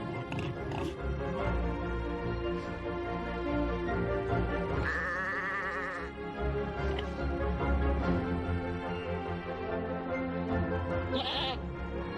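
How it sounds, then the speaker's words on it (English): Unshorn sheep on a farm bleat in the heat, with several wavering calls rising over a dense, steady background of music and other sound. "In the heat, the sheep are complaining they haven't been sheared."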